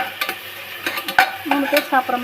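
Tomatoes sautéing with carrots in a pan for veg pasta: a quiet sizzle beneath repeated close scraping and tapping strokes of a spoon stirring the pan, with no voices.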